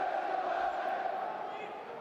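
Basketball arena crowd roaring in a steady, dense wash of voices, loud and sustained, during a Guerri Napoli versus Vanoli Basket Cremona game at Alcott Arena.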